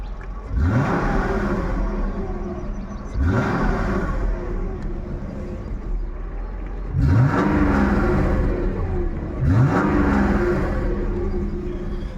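A Mercedes W124 E420 V8 engine revving up repeatedly, four rising roars with deep rumble between them, steady and close with no talking.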